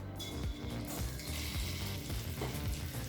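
Scored boiled eggs fry in masala in a pan for egg biryani, a soft, continuous sizzle with faint stirring scrapes, close but quiet.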